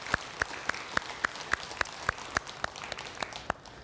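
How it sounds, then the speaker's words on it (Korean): An audience at a Sunday dharma service at Jogyesa temple claps for the Hoehwanamu choir, a steady run of about a dozen evenly spaced claps, crisp and fairly close, with no talking. "우리 회화나무 합창단 여러분들께 자 박수 한 번 더 크게 보내드리겠습니다"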